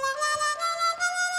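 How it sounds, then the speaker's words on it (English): A chromatic harmonica in a show-off tremolo, a bright sustained chord-like tone with rapid fluttering pulses, held close and fairly loud for a brief moment, no talking. "and the show-off tremolo"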